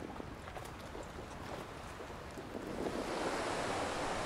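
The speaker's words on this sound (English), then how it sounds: "listen to the waves crashing into the rocks" Surf washing against shoreline rocks where someone sits fishing, a soft hissing wash of waves with wind noise that swells louder toward the end, no voices.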